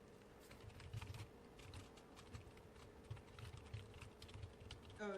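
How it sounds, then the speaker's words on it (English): Faint computer keyboard typing, with scattered light keystroke clicks in irregular bursts over a low steady hum, and no talking. "Oh, he's typing to you."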